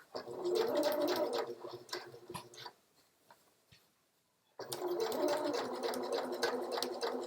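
Sewing machine stitching around the neckline of medical scrubs, a steady rapid whirring run, then a pause of nearly two seconds with faint handling noise, then stitching resumes at the same close, even pace.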